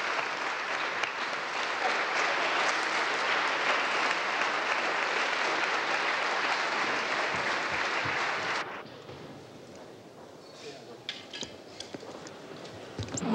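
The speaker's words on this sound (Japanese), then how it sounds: "満場に敬意のこもった拍手が続きました" Respectful applause fills a hall at a 1983 international youth chamber gathering in Taipei, loud and dense for about nine seconds before dropping abruptly to scattered, quieter clapping.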